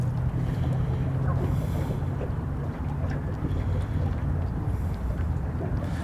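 Wind buffets a fishing boat held in place on the water, a steady low rushing roar over the microphone with no talking.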